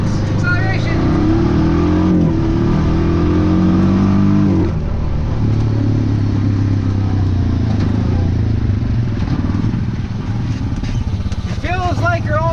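A 2009 Yamaha Rhino 700 UTV accelerates through the woods, its engine revving up and holding a loud, close drone, with a person talking over it and a few squeaks near the end.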